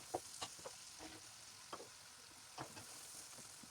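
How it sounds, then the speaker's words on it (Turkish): Chopped onions cooking in butter in a pan for a meat sauté, giving a soft steady sizzle with a few brief stirring clinks and scrapes scattered through, fairly quiet and without any voices. "Doğradığımız soğanları ekleyip güzelce kavuralım."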